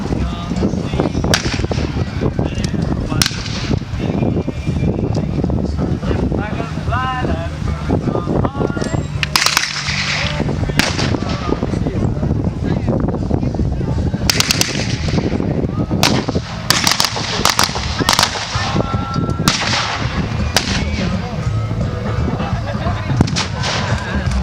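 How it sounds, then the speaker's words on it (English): 155 artillery shells land during a battle reenactment at Quex in 2017, with repeated sharp, booming impacts and crackling gunfire spread irregularly through a busy outdoor scene, and voices talking now and then. "we just had our first round of 155 land"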